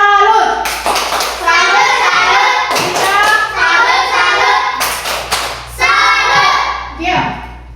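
A classroom of children performs the 'tepuk salut' clapping cheer, with sharp rhythmic hand claps over chanted young voices, loud and close.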